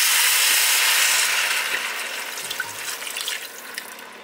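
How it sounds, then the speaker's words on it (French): Water pours steadily into a pot of homemade soup, a loud rushing hiss that gradually softens into lighter splashing and trickling toward the end. "après j'ajoute l'eau et le bouillon"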